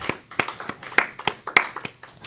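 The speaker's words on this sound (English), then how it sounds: "let's give Amy a round of applause and gratitude for being here today" A small audience at a gathering claps for a musician, a sparse run of about nine distinct, fairly even hand claps, close and crisp, with no talk.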